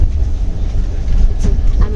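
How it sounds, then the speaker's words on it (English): Up close inside a train on the way to Velankanni, a steady low rumble of rolling rails with faint rattles fills the whole stretch. "I'm enjoying my train journey."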